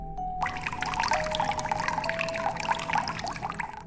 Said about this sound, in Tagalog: nagising ako dahil sa tunog ng tumutulong tubig mula sa isang sulok ng kwarto